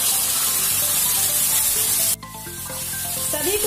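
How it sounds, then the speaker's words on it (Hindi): Ground tomato paste drops into masala frying in a pan for Kabuli chana chole, bursting into a loud steady sizzle that cuts out sharply, then resumes more softly and builds again. "अब इसमें डालेंगे टमाटर का पिसा हुआ पेस्ट।"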